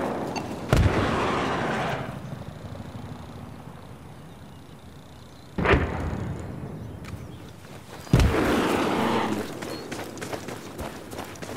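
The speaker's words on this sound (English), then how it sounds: "that's a tank" Three heavy tank cannon blasts boom out in Battlefield 4 multiplayer, each a loud sudden report with a long rolling decay, spaced several seconds apart.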